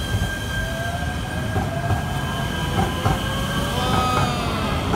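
A passing train in downtown Los Angeles, loud and close, with rumbling wheels, rhythmic clacks and a faint high wheel squeal sustained through the whole stretch, alone without talk.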